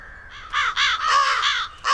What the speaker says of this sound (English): So how can I stop the crows from eating my seeds?